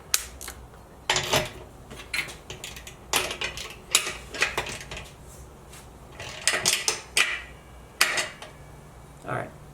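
Milwaukee Fuel cordless ratchet torquing down a bolt: repeated bursts of whirring and clicking metallic ratcheting, close up, separated by short pauses and handling clatter, with brief talk in between.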